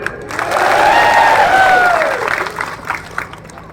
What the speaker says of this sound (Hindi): उनके लिए बहुत जोरदार तालियां